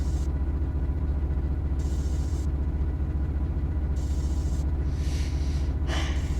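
A locomotive in Train Sim World pulls under power with a steady low engine rumble and drone, barely accelerating. Its continuous mid-frequency whir holds throughout, with brief higher hissy swells near the end.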